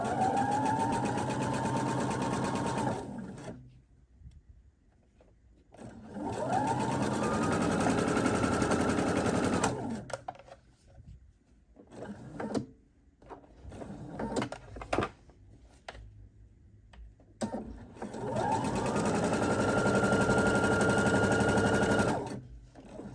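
Sewing machine running a straight stitch along fold over elastic on a panty, three long steady whirring runs with quieter gaps of handling between them.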